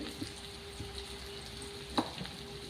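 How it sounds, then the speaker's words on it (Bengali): Chopped onion frying in a pan for a dal with a rohu fish head, giving a steady, quiet broadband sizzle with a few soft stirring knocks and one sharper clack near the end; no one speaks. "পেঁয়াজটা ভাজছি এখন।"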